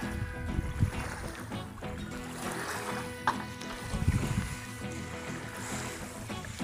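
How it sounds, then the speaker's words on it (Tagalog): A fishing boat moving on open sea, with a steady engine drone and a wash of water and wind throughout, plus a few louder splashes. "ready na yung bangka at palis na kami"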